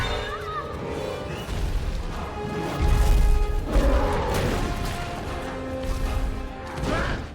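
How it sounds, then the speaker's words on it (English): Stone pillars inside a narrow palace are smashed by brute force in a fantasy jungle setting. Loud, heavy crashing impacts peak in the middle of the clip over a dense, continuous rumbling background. "the Monkey King could only rely on brute force to keep smashing the stone pillars"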